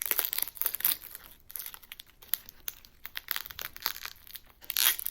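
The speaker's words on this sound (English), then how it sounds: "So I peel the onion first, of course." Onion skin being peeled by hand, dry papery crinkling and tearing in bursts of rustle with brief pauses, close and fairly quiet.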